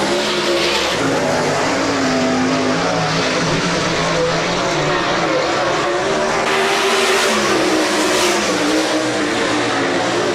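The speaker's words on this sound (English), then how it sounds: "Final set of turns, Ball gets over the cushion." Sprint cars race on a dirt speedway at Rapid Speedway, loud engines roaring and rising in pitch as the field passes, a constant dense wash of engine noise throughout.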